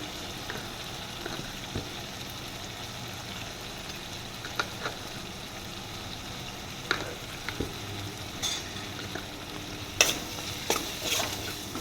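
Tomato softened with garlic paste and red chili powder cooks in a pan for a fried okra curry, a low steady sizzle with occasional scrape-like stirring clicks, fairly quiet and continuous, no voices.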